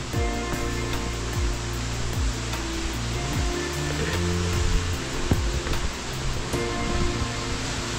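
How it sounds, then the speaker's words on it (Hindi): The Gauri river rushes below the Gauri Udyar temple in Bageshwar, a continuous loud broadband roar of flowing water close by, with a few faint thumps under it and no talk. "तो ये है जस्ट नीचे में गौरी नदी, जबकि ही गौरी उद्यान से निकल के आ रही है।"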